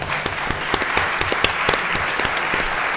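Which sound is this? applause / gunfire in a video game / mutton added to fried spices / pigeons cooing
applause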